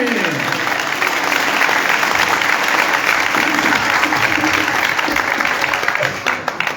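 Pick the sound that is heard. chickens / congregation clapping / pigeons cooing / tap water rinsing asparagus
congregation clapping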